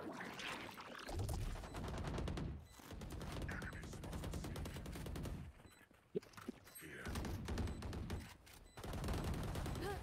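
Rapid gunfire from a shooter video game plays in sustained bursts with brief pauses, loud and close, with faint talk mixed in.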